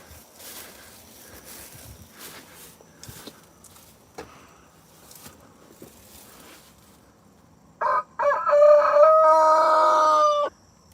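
Sparse soft clucks and rustling from nearby hens, followed by a louder drawn-out squawking call lasting a couple of seconds.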